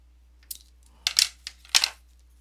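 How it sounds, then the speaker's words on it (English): Scissors snip through stamp carving material in three or four short, crisp cuts, close and fairly quiet, with silence in between. "take my scissors and just go like that"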